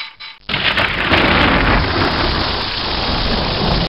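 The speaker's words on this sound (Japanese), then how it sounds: "なんで僕んとこだけ雨が降るんだ" Rain pours in the arithmetic video game Naoko to Hidebou Sansu no Tensai 2, a loud, steady hiss of rainfall that bursts in after half a second and continues without a break, with no talk.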